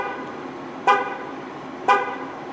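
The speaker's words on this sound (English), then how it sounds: "this activates your horn. It chimes 3 times to locate your car in a car park" Two short horn chirps from a 2013 Chevrolet Captiva 2.2 VCDi LTZ, spaced about a second apart over a steady engine idle, fairly close and clear with no talking.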